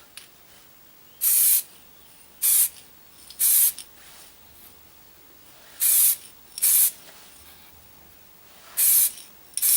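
Short bursts from an aerosol spray can coating a Corgi Aston Martin DB4 model car, six or seven loud hissing blasts of one to two seconds each, separated by quiet pauses.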